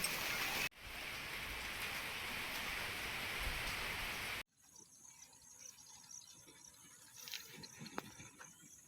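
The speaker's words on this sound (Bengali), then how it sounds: "হ্যাঁ বৃষ্টি শুরু হয়ে গেল" Heavy rain pours in a dense, even hiss for a few seconds, then cuts abruptly to a quieter scene with insects chirping.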